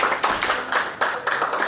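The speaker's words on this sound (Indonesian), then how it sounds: "kita beri tepuk tangan buat Tuhan Yesus" A church congregation claps together in rhythm during a worship service, with steady, fairly quick hand claps that come in close, full bursts and carry no talking over them.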